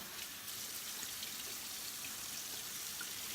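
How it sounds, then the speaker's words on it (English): Produce rinsed under cool running tap water, a steady soft hiss of flowing water with faint splashing, quiet and even throughout. "So we're gonna run this under cool water."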